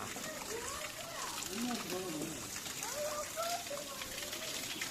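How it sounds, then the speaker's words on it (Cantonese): A small waterfall on Jeju island, heard from a passing boat as a constant rushing wash, with someone talking over it. "大家應該聽到啲瀑布聲咯噃"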